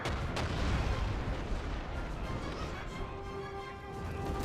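Dense rumbling volleys of musket fire and battlefield noise from a Napoleon Total War cavalry charge, a continuous roar with thuds and crackle throughout.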